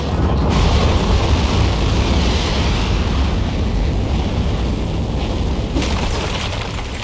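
Rocket liftoff in the video game Aperture Desk Job, a continuous loud rushing roar that holds steady for several seconds and eases slightly toward the end.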